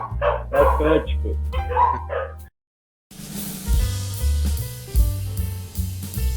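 Dogs bark in short bursts at close range, then a brief silence before music with a heavy beat begins.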